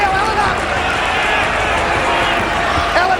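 Crowd at a 2006 round 1 NRL rugby league match between Manly Sea Eagles and Canberra Raiders, a steady stadium roar under a commentator talking throughout.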